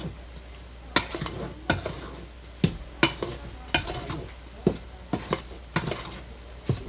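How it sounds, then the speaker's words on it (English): Dry pizza dough ingredients, flour with yeast, being stirred in a bowl: a series of scraping, tapping strokes at an irregular rhythm, close and moderately quiet. "We mix the dry ingredients again."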